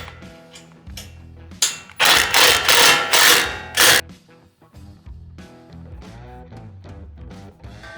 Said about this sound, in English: I'm going to use a wrench for this. 3/16 Allen wrench and socket,